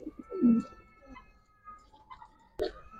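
Pigeons in a loft coo in short low bursts, one louder call near the start and another brief burst toward the end over faint background chatter; the birds include a jag-necked pigeon of old bloodline.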